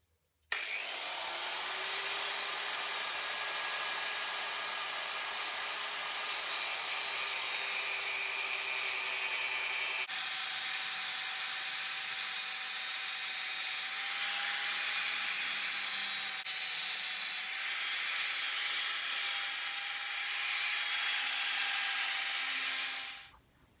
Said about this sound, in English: I'm going to cut that part of the kingpin off